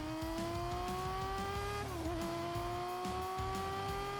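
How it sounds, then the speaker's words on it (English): BMW K1600 GTL inline-six luxury touring motorcycle engine, a smooth steady hum with a slight dip and recovery in pitch midway, constant and moderately loud. "The BMW K1600 GTL delivers automobile-level smoothness"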